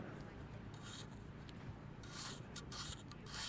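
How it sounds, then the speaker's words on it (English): A metal spatula scrapes across a wall of packed solid sand, trimming off thin layers in a steady rasping, rubbing texture with brief louder strokes, close and moderately quiet with no talking. "I'm just gonna continue cutting straight across with my spatula, taking off a little bit of sand at a time"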